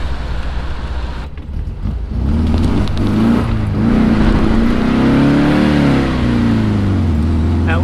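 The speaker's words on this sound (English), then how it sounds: "That was a one wheel spin." A Volkswagen on skinny tires revs hard through a one-wheel spin, the engine note climbing and holding loud and near for several seconds over steady road rumble.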